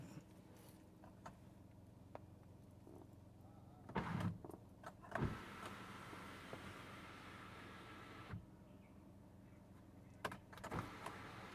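Electric sunroof on a 2021 Kia Seltos HTX automatic petrol model whirs open in a quiet cabin, a faint motor hum with a few soft clicks and knocks around it.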